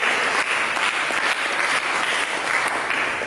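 A church congregation gives dense, sustained applause for Jesus, a full room of hands clapping loudly throughout.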